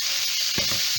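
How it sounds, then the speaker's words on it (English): Garlic being stirred in a frying pan, with a steady bright sizzle throughout and a couple of soft scraping stirs near the end, close and alone. "give that one quick stir because we don't want to overcook the garlic"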